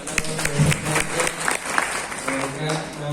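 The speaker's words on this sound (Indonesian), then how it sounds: "Jadi tepuk tangan semuanya." Applause from a crowd, a dense patter of clapping that swells and fades over a few seconds, with a voice speaking over it.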